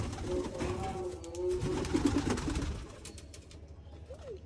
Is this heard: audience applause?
no